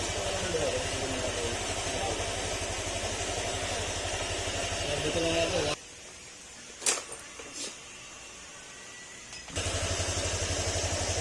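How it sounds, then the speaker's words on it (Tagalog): A Honda Click 125 scooter engine idles with a steady low rumble, cut off midway by a few seconds of quiet with light clicks before the idle returns. "Tahimik pa yung makina niya."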